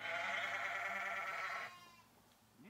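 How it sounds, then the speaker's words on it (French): Sheep on a small local farm where lambs are born, one long steady bleat up close that fades into quiet barn ambience, with a faint rising call at the end. "J'ai réduit le cheptel de moutons."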